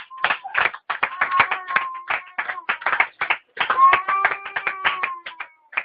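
A church congregation applauds, with scattered bursts of clapping hands in uneven rhythm while a voice rings out clearly over them.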